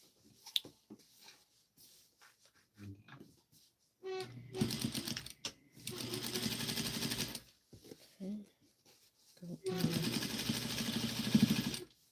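A sewing machine stitches a sleeve for a Vogue 1737 pattern garment in two loud sustained runs, with scattered clicks and handling noises between them.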